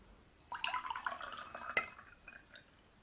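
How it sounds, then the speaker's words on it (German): A short, quiet pour of water into a glass, with trickling and a few clinking drips, fading out after a couple of seconds. "jetzt schütten wir dort heimlich, also hinter dem Vorhang, das Wasser hinein"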